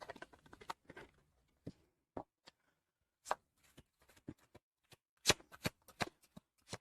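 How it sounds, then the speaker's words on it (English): A deck of tarot cards is shuffled by hand in a quiet room, with crisp, close riffling bursts and sharp individual card slaps spaced irregularly between short silences. "let me reshuffle these cards"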